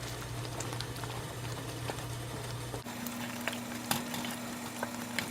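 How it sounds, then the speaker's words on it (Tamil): Roasted brinjal kulambu bubbles in a covered pot on the stove, a faint, steady soft simmer with scattered light pops and no voices. "5 நிமிஷமாக குழம்பு நல்லா கொதிச்சிட்டு இருக்குதுங்க"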